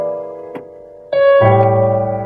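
Sustained keyboard chords: a held voicing, a soft accent, then a fuller dominant seventh chord struck around the middle and ringing loudly to the end, alone without any talking.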